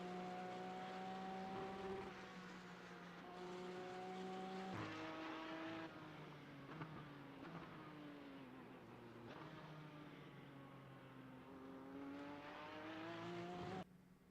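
Race car engine at the Canadian Tire Motorsport Park (CTMP) track, a steady loud onboard drone with repeated shifts and revs rising and falling over several seconds, heard alone without talk.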